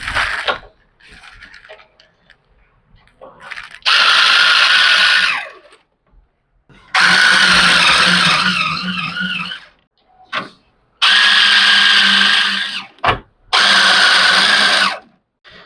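A power drill or screwdriver fastens nuts with washers during a gaming PC build, with several loud whirring bursts of a few seconds each separated by quiet gaps and small clicks of handling.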